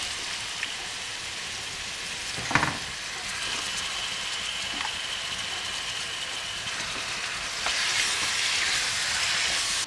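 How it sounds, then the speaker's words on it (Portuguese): Pork spine (suã) sautéing in a pan with browned garlic and salt, a steady bright sizzle running the whole time with one sharp clatter early on and a slight swell near the end, no talking. "Agora vamos colocar o suã para refogar"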